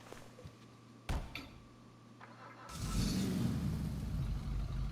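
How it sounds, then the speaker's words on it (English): Stallion muscle car in GTA Online starting up: a quiet idle hum with a couple of clicks, then a sudden loud, deep engine rumble that settles into a steady throaty idle. "classic muscle car sound."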